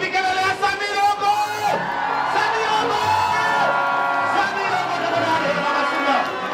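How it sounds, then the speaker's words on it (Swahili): A crowd at a lively celebration event cheers, whoops and shouts loudly and continuously, voices overlapping in a dense, close roar with a brief dip near the start. "Wapi kelele ya Sami Longo?"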